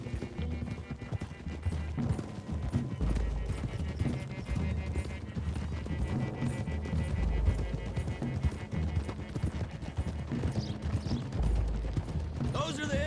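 Several horses' hooves clip-clopping steadily along a road in Red Dead Redemption 2, a continuous loud trotting rhythm with someone talking over it.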